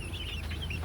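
Young chicks clucking and peeping softly while eating feed, a few short high chirps over a low steady background hum, close but faint.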